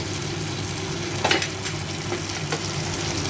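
Potatoes and cauliflower hit hot oil in a frying pan and sizzle steadily, a constant hiss with a few clinks of stirring, close up and with no talk.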